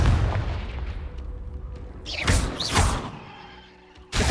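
A booming blast from the Confringo spell in Hogwarts Legacy, a heavy explosive thud with crackling bursts that fade out, followed by a sharp new hit at the end, with no speech over it.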